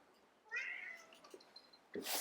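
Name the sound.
cat meowing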